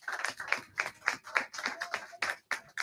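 Applause from a small audience at a community gathering, close by with uneven, scattered claps rising and falling in loose bursts, no voices over it.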